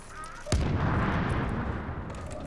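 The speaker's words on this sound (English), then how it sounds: "Somebody just immediately throw a grenade?" A grenade goes off in Tom Clancy's The Division, one sharp loud blast followed by a long rumbling decay of debris and echo beneath faint background game ambience.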